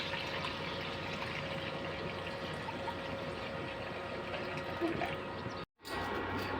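Rice-washing water poured into a cooking pot in a home kitchen, a steady continuous watery rush throughout, briefly cut off near the end before resuming.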